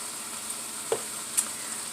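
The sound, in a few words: frozen vegetables sautéing in pan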